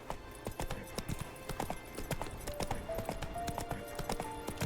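Roach the horse gallops in The Witcher 3, hooves clopping in a quick steady rhythm close up, with faint game ambience underneath and no talk.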